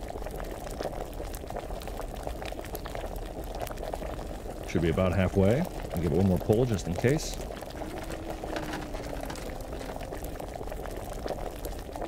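Liquid bubbling in an alchemy pot in Kingdom Come: Deliverance, a steady low boil running throughout, with a brief burst of louder sloshing midway and someone speaking over it.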